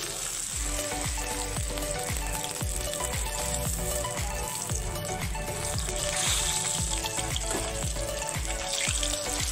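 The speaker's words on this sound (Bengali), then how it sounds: "মাছটা আমি এক এক করে এখন ভেজে নেব।" Rohu fish pieces fry in hot oil with a loud, dense, continuous sizzle and crackle, close up and with no voices.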